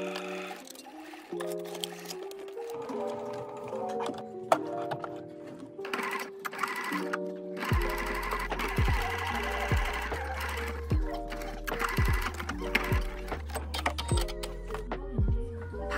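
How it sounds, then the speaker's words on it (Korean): A sewing machine stitches a bag's lining to its outer fabric, running in repeated bursts of rapid close mechanical clatter with brief pauses, alone with no talk. "이렇게 안감을 끌어서 겉감 끝부분에 맞춰 박음질 해주세요."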